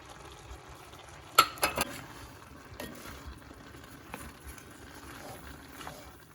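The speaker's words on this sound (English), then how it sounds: "beef, pork and onions are cooking down there" Beef, pork and onions fry in a pan for chilli, giving a faint, steady sizzle broken by a few sharp clicks and clinks of a utensil against the pan.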